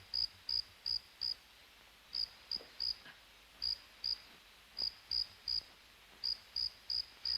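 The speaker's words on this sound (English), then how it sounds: "That's a cricket." A cricket chirps in short, evenly spaced bursts that come in small clusters with brief gaps between them. The sound is close and clear over a faint, quiet background, with no talk.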